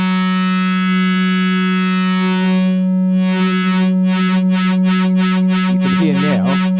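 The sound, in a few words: Arturia synthesizer sound animated by LFO through Metalizer effect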